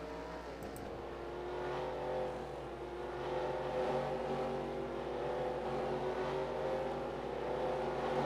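Race car engines at Talladega in an NRSL Hooters Series racing game drone steadily, a pack of motors humming and swelling gently as they rev up, continuous and moderately close.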